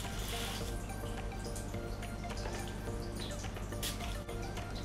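Water is poured onto an Episcia houseplant in a pot, giving a continuous trickle with scattered drips over a steady low background hum.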